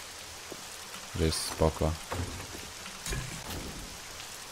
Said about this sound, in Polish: Troszeczkę pada, ale nie ma takiej ulewy jak wcześniej.